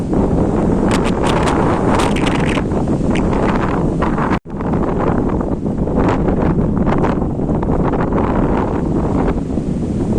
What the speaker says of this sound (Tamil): புயல் காற்று அடிக்குதுங்க பாலைவனத்தில்.